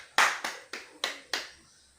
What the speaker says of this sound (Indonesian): Tepuk tangan dulu buat Mama Yohana.